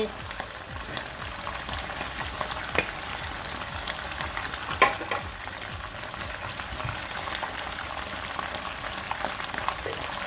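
Canned fish and seasoning are stir-fried in a pan. A steady, close crackling sizzle runs throughout, with occasional scrapes and light knocks from gentle stirring.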